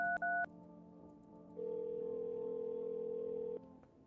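Telephone keypad tones: a few quick dialing beeps, then a steady held tone lasting about two seconds, clear and alone over a faint background hum.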